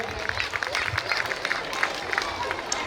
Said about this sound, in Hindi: एक बार जोरदार ताली को द्वारा भैया जी का भी सम्मान किया जाए।